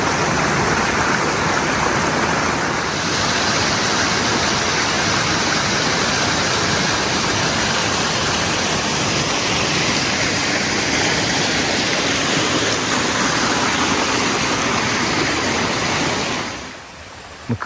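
A steady, even rush of water pours over a small waterfall drop on the Serpent River in old growth forest, a continuous close wash that holds constant before cutting off near the end.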